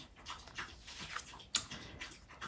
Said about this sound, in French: J'ai deux petits chiens. Il faut toujours qu'ils s'expriment.